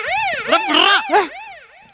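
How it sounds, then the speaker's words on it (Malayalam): An ambulance siren wails in rising and falling sweeps for about two seconds, loud and close at first and then fading as it passes, with a brief burst of noise partway through. "ഒരു ആംബുലൻസ് അതിലെ പാസ് ചെയ്തു പോയതാണ്"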